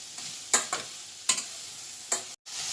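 Vegetables for Bombay street-style vegetable fried rice, with coriander and mint, sizzle steadily in a hot pan while a spatula scrapes through them in a few sharp stirring strokes, close and clear, with no talk.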